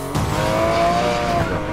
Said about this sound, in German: jetzt wird hier gedriftet mit meinem Porsche hier